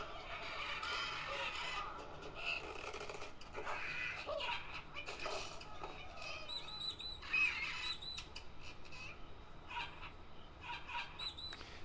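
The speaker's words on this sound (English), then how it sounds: "This is Angry Bird Rio," Chirps, squawks and bird calls from the Angry Birds Rio game play from a Motorola Xoom tablet speaker, faint and scattered over about twelve seconds, with brief bursts and no talking.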